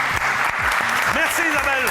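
Audience applause at a TV talent show fills the clip, a steady dense clapping that runs the whole time while a presenter's voice talks over it.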